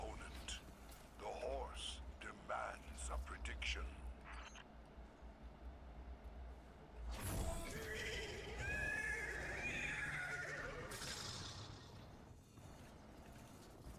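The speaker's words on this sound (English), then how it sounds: "The horse is displeased." A horse in Destiny 2 whinnies loudly and at length, a shrill, wavering neigh rising out of quieter rustling and soft sounds.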